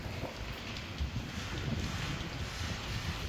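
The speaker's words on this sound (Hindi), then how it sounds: "बहुत तेज़ हवा चल रही है।" Strong, steady wind roars and buffets the microphone, with low rumbling gusts throughout and no voices.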